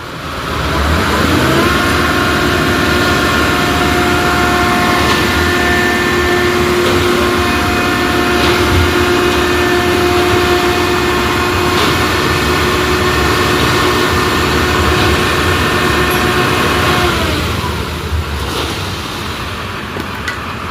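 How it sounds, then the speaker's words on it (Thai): Big truck driving by on a road, a loud, sustained engine rumble with steady droning tones holding for most of the stretch before easing slightly near the end. "รถบักใหญ่พี่น้องเอ้ย เอาเห็นเนาะ มื้อละ2 คันรถนี่พี่น้องเอ้ยเนาะ"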